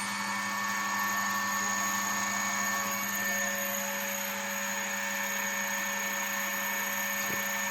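An electric motor run from an Omron MX2 inverter at 15 Hz gives off a steady hum with a constant high whine and fixed tones. It stays even and unbroken, with no speech.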